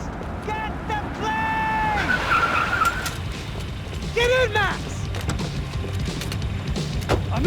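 Car driving at speed in the video game Max Payne 3, with loud tire squeals and skids rising and falling over a roaring engine, plus shouted voices and impacts during the chase.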